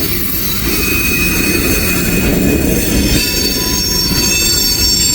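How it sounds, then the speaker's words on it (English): A coke train rolls steadily past on the rails, a loud continuous rumble with high, sustained wheel squeals ringing over it, close and alone without talk. "We can watch the rest of the coke train go through."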